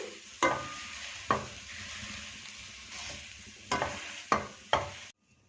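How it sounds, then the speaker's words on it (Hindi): Spiced potato samosa filling mashed and mixed in a pan, with sharp repeated knocks of the masher or spoon against the pan over a soft background sizzle, clustered toward the end, then a sudden stop. "इसको मैश करते जाएंगे और साथ साथ मिक्स करते जाएंगे"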